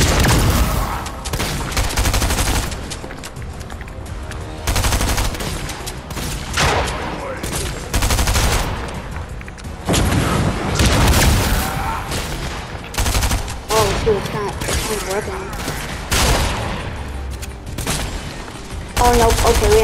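Heavy shotgun blasts boom repeatedly in a Fortnite-style shooter game, loud close shots in irregular bursts with brief gaps, mixed with other game sounds and occasional talk.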